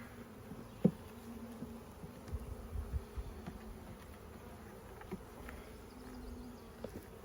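A soft, steady hum of honeybees buzzing around hive frames nearby during a hive split, with a few faint knocks and shuffles.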